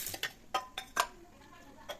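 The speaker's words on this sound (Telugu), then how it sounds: "మిక్సీ జార్ తీసుకునేసి మనం వేయించుకున్న ఇంగ్రీడియంట్స్ అన్నీ ఉన్నాయి కదా అవన్నీ దీనిలోకి వేసేద్దాము" Fried ingredients for a drumstick-leaf spice powder are tipped into a mixer jar, making several sharp clinks and scrapes against the metal, with irregular bursts close up and no talk.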